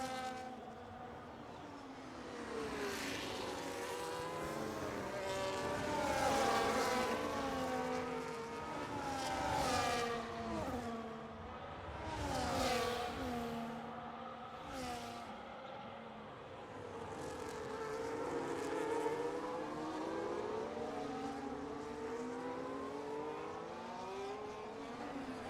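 Race car engine in a racing sim game, at the Spain round with the rear wing open down the main straight: a continuous high-revving whine climbing through repeated gear shifts, loud and steady, with no voices.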